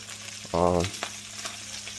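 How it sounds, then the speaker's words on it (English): Beef and peppers sizzle steadily in a pan with no oil, stirred around often, with a short scraping burst partway through. "we're going to make sure this beef and peppers don't get burnt. We're going to move them around a lot."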